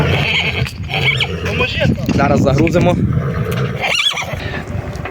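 A mare whinnies loudly nearby while people talk around it during loading.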